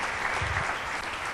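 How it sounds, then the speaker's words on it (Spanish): A church congregation applauds loudly and steadily, a dense wash of clapping that fills the whole moment without pause. "Dele fuerte el aplauso al Señor, por favor."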